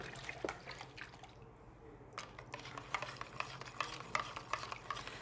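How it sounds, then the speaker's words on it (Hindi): Homemade toilet cleaner liquid is stirred in a tub, producing quiet, repeated sloshing and swirling strokes close by, with small drips and faint scrapes against the container. "ये टब में भी मैं मिक्स कर रहा हूँ। साथ साथ ये मिक्स करते जाएं।"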